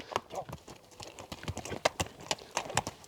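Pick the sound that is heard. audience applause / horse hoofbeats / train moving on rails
horse hoofbeats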